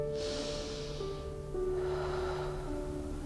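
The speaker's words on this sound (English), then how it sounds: "take 5 breaths" Slow, deep breaths in a children's trauma-informed yoga session: a long airy exhale, a brief pause, then a second fuller breath of steady rushing air, close and alone.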